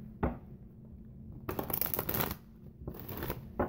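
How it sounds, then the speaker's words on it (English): Tarot cards shuffled up close: a brief flick, then two bursts of riffling and rustling card noise separated by a short pause. "Let me get them shuffled up from here."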